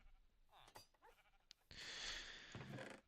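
Sheep in the video game Minecraft bleat in a few short, close calls, followed by a longer burst of bright hissing noise.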